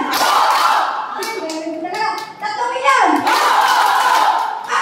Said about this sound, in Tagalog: Milyon yung palakpak.